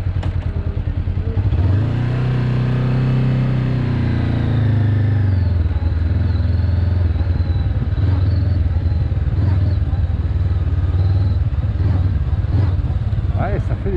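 Motorcycle engine during a slow-riding lesson for an A2 licence, revving up as it pulls away in a slightly jerky manner, with a steady low drone close by and speech mixed in.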